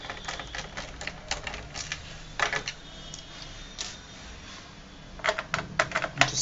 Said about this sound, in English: remove all the screws here.